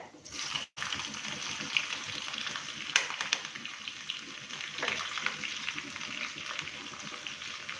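Green chillies sizzle steadily in hot oil over a low flame, a continuous close frying hiss with a few scrapes and clicks from the pan.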